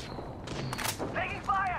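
A couple of sharp gunshots from enemies firing in Apex Legends, close and brief, followed by a character voice speaking over the fight.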